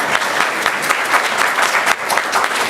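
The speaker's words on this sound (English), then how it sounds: "let's give a round of applause for Isabella" A room of people at a school board business meeting claps for an honoree, giving a loud, close, dense patter of hands that runs unbroken for a few seconds.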